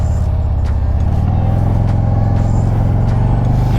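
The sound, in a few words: Harley-Davidson CVO Road Glide Limited engine starting and revving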